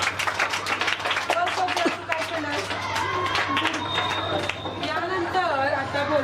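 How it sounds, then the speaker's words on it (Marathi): A group of children in a classroom claps hands in a quick burst of sharp slaps, then chatter and voices take over as the clapping fades. "टाळ्या वाजवा."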